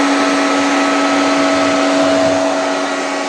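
A cooling fan on a homemade amplifier whirs in a loud, steady drone with a constant hum and no pauses, close to the listener.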